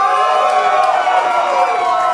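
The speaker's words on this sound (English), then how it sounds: "I thought that would get some cheap applause." Crowd at a punk show by Night Birds in Baltimore cheering and whooping over a steady roar of applause, loud and close throughout.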